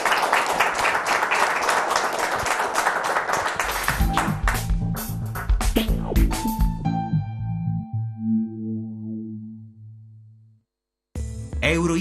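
A television studio audience claps for about ten seconds, the applause thinning into scattered claps while closing music rises, followed by a brief silence and a return of sound.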